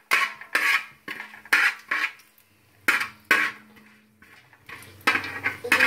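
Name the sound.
stirring tomato rice in a pot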